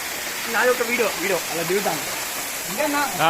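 A waterfall among rocks near Peddapalli roars as a steady broadband rush while people talk loudly over it, close to the listener.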